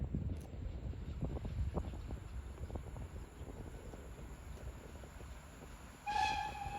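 A smoking steam locomotive train rumbles and clanks past at a moderate distance at Szreniawa station, Poland, then a short whistle sounds near the end.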